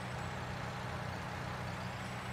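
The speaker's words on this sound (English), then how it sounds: "I hear a truck and trailer." Steady low idle of a truck and trailer engine in the Farming Simulator 19 game, a constant droning rumble with no breaks, moderately quiet and alone.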